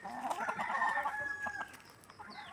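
Backyard hens kept under netting on a Kerala homestead cluck and a rooster crows nearby, a drawn-out crow blending with scattered clucks, fairly close and with no voices over it.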